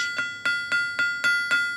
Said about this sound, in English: it sounds very hard, quite bell-like, and it could easily be the sound you would expect from a bronze, rather like a bell